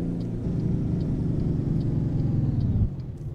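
A modded Kenworth W900B truck engine in American Truck Simulator drones with a deep steady rumble, swelling slightly before easing off near the end.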